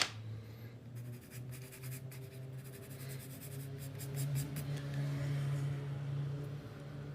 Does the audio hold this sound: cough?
no